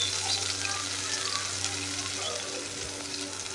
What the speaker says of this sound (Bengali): তার মধ্যে মিক্স করা রাখছি পেঁয়াজ রসুন কাঁচামরিচ। এখন তেলের মধ্যে ছাইড়া দিলাম।